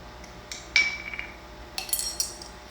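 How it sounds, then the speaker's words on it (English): A spoon scoops capers from a glass jar, making a few light clinks and scrapes of metal against glass, close and quiet, with no talk. "I'm just gonna grab a spoon and throw in my capers"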